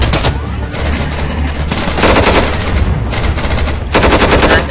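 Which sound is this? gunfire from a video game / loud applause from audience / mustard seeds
gunfire from a video game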